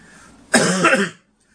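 A single harsh cough burst, close and fairly loud, lasting about half a second, followed by quiet.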